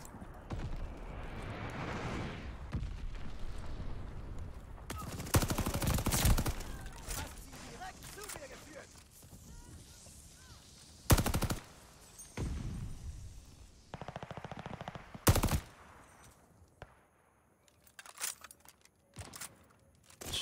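Gunfire in the Call of Duty Vanguard multiplayer video game, with several sharp loud bursts and scattered shots over a quieter background of game ambience, separated by pauses.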